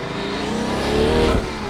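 A twin-turbocharged 853 hp performance car engine revs up loud and close, a deep, echoey roar that swells steadily and peaks before dropping off abruptly.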